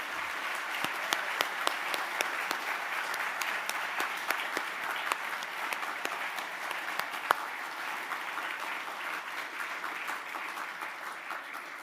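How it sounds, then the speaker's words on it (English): Sustained applause fills a ceremony hall for hard hat recipients, a dense, steady wash of many hands clapping with no voices above it. "Please join me in one more round of applause for all of this evening's hard hat recipients"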